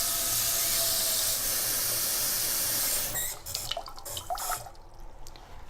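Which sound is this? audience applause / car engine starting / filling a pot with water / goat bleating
filling a pot with water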